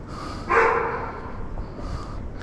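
A dog barks from a nearby intersection on a city street in Yerevan, a short distant burst of barking rising over steady outdoor traffic hum and background murmur.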